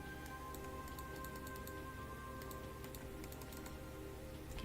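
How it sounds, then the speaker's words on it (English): Continuous quiet typing and clicking on a computer keyboard, a dense patter of soft key taps with occasional sharper clicks, close to the mic and without talk. "so you can actually hear me typing and clicking"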